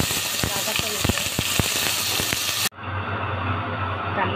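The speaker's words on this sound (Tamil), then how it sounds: "அதுலேயே ரெண்டு வெங்காயம் சேர்த்துக்கிறோம். கருவேப்பிலை போட்டு நல்லா வதக்கணும்." Onions and curry leaves sizzle and crackle steadily in a hot pan of oil, with sharp pops over a continuous fry that is close and loud throughout.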